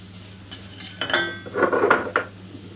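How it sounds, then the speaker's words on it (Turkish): Metal spoon clinks and scrapes against a pot while tarhana is stirred and sautéed for tarhana soup, a few sharp knocks and scraping strokes close up with light sizzling underneath. "güzelce kavurma işlemimizi sürdürüyoruz"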